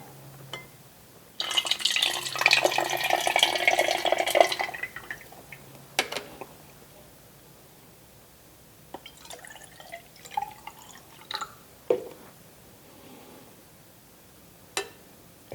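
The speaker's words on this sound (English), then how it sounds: "I'm going to put in a total of 200 milliliters of water." Water is poured into an aluminium pop can, a dense splashing pour lasting about three seconds, followed by scattered faint drips and small clinks.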